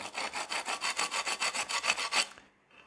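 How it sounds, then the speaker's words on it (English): A Perma-Grit tool cuts carbon fibre in a quick run of about fifteen even rasping strokes, close and crisp, before stopping abruptly into near quiet. "So let's cut some carbon fibre now."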